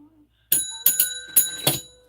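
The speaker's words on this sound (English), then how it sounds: "The bell has rung, right?" A small bell rings four times in quick, uneven succession, each strike a bright metallic ding with a lingering tone, loud and close after a brief quiet start.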